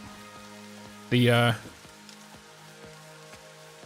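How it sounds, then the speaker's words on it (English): Rain falls steadily in the video game Satisfactory, a soft continuous patter with faint recurring ticks under a quiet electronic hum, briefly interrupted by a short loud tonal sound; a voice speaks a word. "Oh, it's starting to rain"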